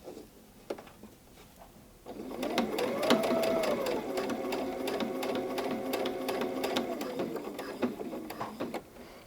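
Sewing machine stitching a fabric potholder, a steady close mechanical whir with rapid needle clatter running continuously for several seconds after a quiet start.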